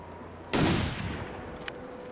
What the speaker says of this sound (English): I'm actually going to try and smoke the bear from here with my rifle.